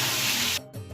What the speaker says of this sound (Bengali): এবার হচ্ছে মশলাগুলোকে ভালো করে কষিয়ে নেবো আলুর সাথে